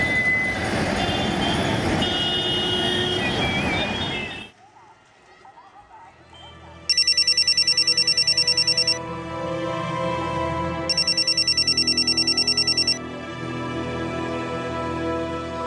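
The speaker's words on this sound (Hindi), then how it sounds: "वाराणसी रेलवे स्टेशन से एक फोन आता है" A telephone rings with two loud bursts of bright electronic trilling, each about two seconds long and separated by a pause, after rumbling train-station noise and a low hum.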